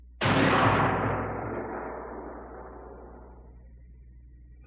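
A single loud, close gunshot-like blast followed by a long, rolling decay that fades over several seconds, with no talk.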